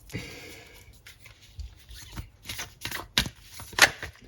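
Tarot cards are shuffled by hand in a run of quick riffling and slapping bursts, close and moderately loud, with irregular pauses between them and a sharp snap near the end.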